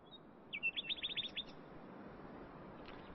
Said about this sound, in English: That night I was kept awake by the unrelentingly beautiful song of the nightingales